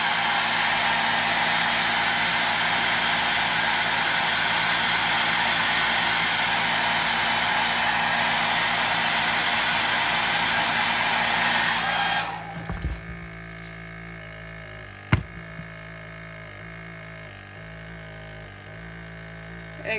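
Heat gun blowing loudly and steadily while heat-setting paint on a swim bait, a constant airy roar that cuts off abruptly, leaving a quieter room with a sharp click.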